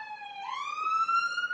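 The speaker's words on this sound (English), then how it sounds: "It's a fire brigade. Going to a fire." A British fire engine's siren wails past in clear steady tones, the pitch sliding upward as it approaches, heard alone outdoors on a walk.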